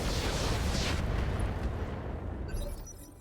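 Mech weapons firing in the BattleTech mod RogueTech, a heavy rumbling blast that rolls on and fades over a few seconds, loud and alone without talk.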